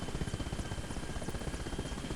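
Mil 8 helicopter in the Arma Reforger video game: a steady, loud rotor thump with an engine whine, pulsing evenly throughout with no talk.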